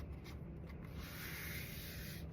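A tissue-paper window shape is folded over by hand, giving a continuous soft rubbing, crinkling rustle, quiet and close, with no talking.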